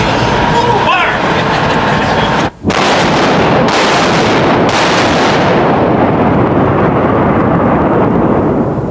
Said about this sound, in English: The rammer is withdrawn, the breech closed, the gun is ready to fire.